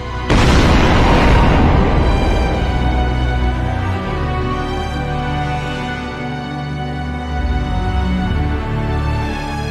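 A supernova explosion sound effect: one huge, sudden boom that hits loud and then rolls into a long, deep rumbling tail lasting several seconds, with no voices.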